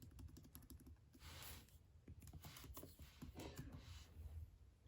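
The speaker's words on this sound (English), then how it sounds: "And I'm gonna type my name on this one so y'all can hear the comparison." Typing on a MacBook Air keyboard, a quick irregular patter of soft key clicks, very quiet and close, alone without talk.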